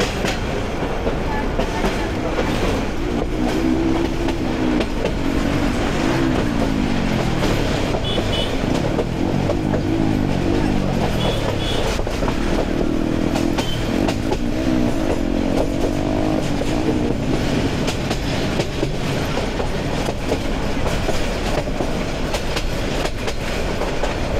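A Balaka commuter train of Bangladesh Railway runs steadily on the line, a loud continuous rumble of wheels and carriages with clickety-clack rhythm throughout.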